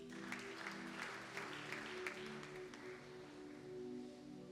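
A church congregation applauds, a steady wash of clapping from many hands filling the room and slowly easing off.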